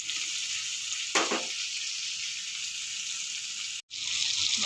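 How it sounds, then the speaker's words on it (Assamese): Tomato frying in a pan gives a constant bright sizzle, with one brief louder burst early on and a short gap near the end before the frying hiss resumes. "বিলাহীটো দি দিছোঁ লগতে অলপ ভাজিব লাগিব"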